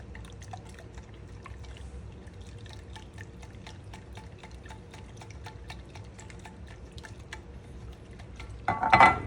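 Milk poured into a yogurt mixture in a kitchen, a soft continuous trickling pour under a faint background hum, ending in a louder splashy swirl.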